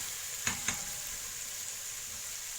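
Garlic frying in a pan gives a soft, steady sizzle with two brief clicks near the start, fairly quiet and without voices.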